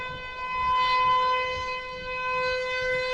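A tornado warning siren wails steadily, its loud sustained tone holding with a slight rise and fall over a low rumble of wind and rain.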